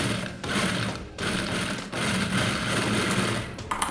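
A sewing machine runs steadily while stitching the lining of a plain blouse, its motor whirring continuously with brief pauses between bursts and a few clicks near the end.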